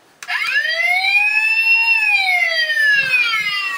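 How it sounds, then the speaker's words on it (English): Transformers Sentinel Prime leader-class toy emitting an electronic emergency siren, a loud steady wail that rises and falls slowly, with a click at the start and faint handling noise near the end; no voices. "you have there the emergency sound"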